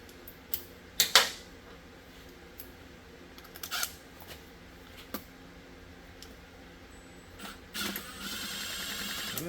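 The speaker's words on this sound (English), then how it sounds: "I think we're going to be back to the Phillips screwdriver." A Phillips screwdriver works screws loose on a Yamaha Virago 1100 motorcycle, with scattered close metallic clicks, taps and rattles spaced irregularly against a quiet background.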